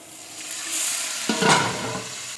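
Hot oil with cumin seeds sizzles steadily, then a burst of louder hissing and spattering as two tablespoons of water hit the pan, settling back into a fizzing sizzle.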